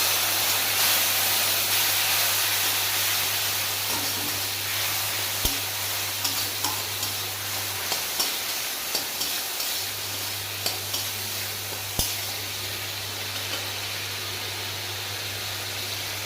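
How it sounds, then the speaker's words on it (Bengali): Water poured onto hot ground turmeric and Kashmiri chili powder in a pan makes a loud, close sizzle that slowly settles into a steady hiss, broken by light scraping and stirring clicks. "এবার একটু জল দিয়ে দেবো,"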